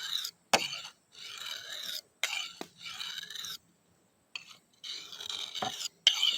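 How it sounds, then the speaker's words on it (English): A stainless steel knife is sharpened with close, rasping strokes, delivered in short bursts separated by brief pauses. "Sharpen on this knife a little bit."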